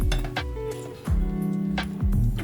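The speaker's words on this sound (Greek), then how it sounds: "θα τα σκεπάσω με ένα πιάτο" A plate is set down over Lenten stuffed cabbage rolls with pumpkin in a pot, giving a few ringing ceramic clinks and knocks with short resonant tails, close and fairly loud.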